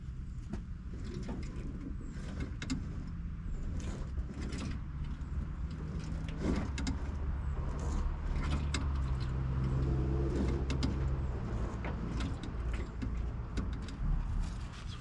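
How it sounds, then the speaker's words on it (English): Low mechanical creaks and faint clunks as the steering wheels of a 1975 Isuzu squarebody conversion are turned back and forth, over a steady rumbling background hum, fairly quiet and continuous. "I'm gonna be turning the wheels"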